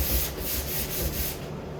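Steady hand sanding of primer with 220-grit paper on a wooden pantry door, a soft rhythmic rubbing scratch in repeated back-and-forth strokes, close up with no talking.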